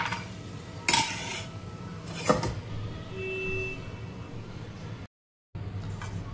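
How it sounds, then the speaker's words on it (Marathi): A lid is set onto a cooking pot in a home kitchen, producing two sharp metallic clanks about a second and a half apart, followed by quiet background room noise and a brief silent gap. "आपण झाकण ठेवू याच्यावर।"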